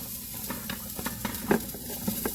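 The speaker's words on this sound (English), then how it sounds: "Now we're going to put in our wonderful diced onions. And a few of our mushrooms as well," Diced onions and mushrooms sizzle in a pot as a base for cream of mushroom and bacon soup, a quiet steady fry broken by light stirring taps and scrapes, with no talking.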